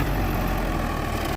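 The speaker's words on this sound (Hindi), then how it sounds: "तो भाई थोड़ा सा टेस्ट करके देख रहे ट्रैक्टर को" Swaraj 855 tractor fitted with new tyres, its diesel engine running steadily on a test drive, a loud continuous low rumble with no speech.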